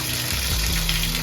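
Water runs from a household faucet as a steady, even hiss for the whole moment.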